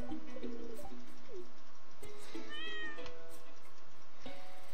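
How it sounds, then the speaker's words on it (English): A pet cat in the video game Stardew Valley gives several short meows scattered over a few seconds, moderately loud and close, alongside soft game tones and clicks, with no talking. "Oh, we got we get our kitty cat!"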